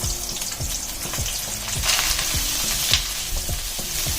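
Garlic and mushrooms sizzle in hot oil with ginger slices and shallots, a dense close frying hiss punctuated by rhythmic utensil taps and scrapes against the pan, without speech.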